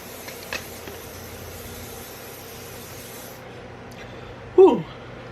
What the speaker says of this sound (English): So I'm gonna set my face with the Seal It So Pro Cosmetics.